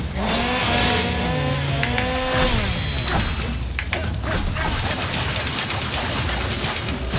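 A chainsaw-wielding enemy in the video game Devil May Cry, with a buzzing saw motor that rises and falls in pitch, heavy thuds and clashing combat noise, loud and continuous throughout.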